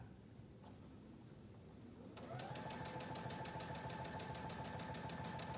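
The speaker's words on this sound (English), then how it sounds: "So let's again run a gathering stitch across the top." A sewing machine starts up partway through and runs a long straight gathering stitch, a fast even mechanical chatter that continues steadily to the end, faint and close with no talking.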